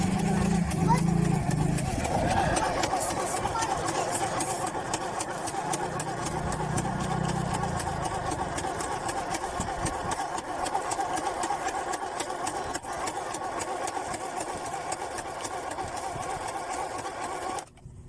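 Small portable machine engine idling at low throttle, a steady mid-pitched chatter with a rapid rhythmic clatter, heard under someone talking at moderate distance through most of it.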